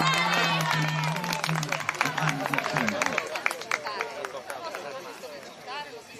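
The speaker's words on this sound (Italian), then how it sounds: "Un applauso anche per questo cavaliere" A crowd claps for horse riders at the San Basilio horse race festival, with the clapping and crowd noise sitting beneath a loudspeaker announcer talking.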